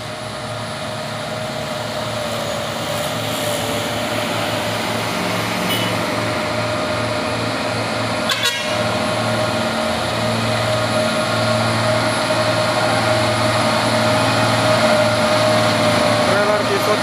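A Hino isotank trailer truck hauling chemicals climbs the Bukit Kodok hill, its engine a steady, loud low drone that holds throughout.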